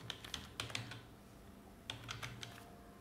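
Quick bursts of keystrokes on a computer keyboard, two clusters separated by a short pause, close and clear with no voices.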